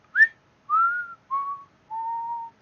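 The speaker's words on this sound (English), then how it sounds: "Just a man singing, humming, and whistling to himself." A man whistles to himself behind a bathroom door at night, four clear drawn-out notes, the first short and rising, the rest long and gently falling, with brief pauses between them and no talk.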